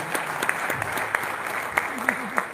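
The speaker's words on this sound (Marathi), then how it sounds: "मला असं वाटतं एकदा आपल्या प्रकाशकांसाठी जोरदार टाळ्या झाल्या पाहिजे." Audience clapping at a Marathi cultural event honouring publishers, a steady patter of many hands with sharper individual claps at moderate level, and a faint voice in the background.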